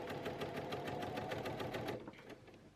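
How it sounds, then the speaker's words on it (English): A sewing machine stitches piping around a corner of a fabric piece, running at a fast, steady rhythm close by for about two seconds before slowing and stopping. "we're going to sew down"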